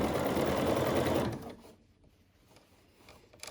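A sewing machine stitches a ruffle neckline in a circle, running loud and steady for over a second before stopping, followed by quieter handling noises and light clicks.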